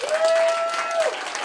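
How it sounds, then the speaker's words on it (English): An audience at a college poetry slam applauds, a dense burst of clapping with a steady ringing tone over it, most likely feedback, fading near the end. "how about a nice one more round of applause for all the votes?"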